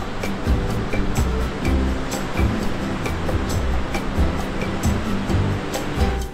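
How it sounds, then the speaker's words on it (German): Rough ocean water churns along a South American coastline, a steady broad roar with rhythmic surges as waves break, loud and continuous. "Aber es sieht echt so wild aus, das Wasser."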